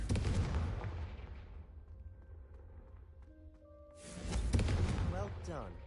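A Confringo blasting spell in Hogwarts Legacy strikes candelabras, a booming fiery burst at the start followed by a second loud blast near the end, with game ambience between.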